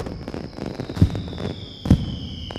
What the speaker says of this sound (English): Duck and Percy joined the other engines for the fireworks.